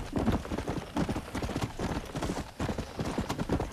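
Horse hooves galloping in Red Dead Redemption, a quick steady clip-clop rhythm that runs throughout, close and fairly loud, with no talk over it.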